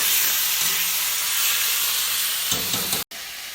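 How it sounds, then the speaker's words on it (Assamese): Knolkhol and potatoes fry in a pan with a little water added, giving a loud, steady hissing sizzle that holds throughout and cuts out briefly near the end. "আপোনালোকে পানী অলপ অলপ দি 5 মিনিট সময় ভাজি ল'ব"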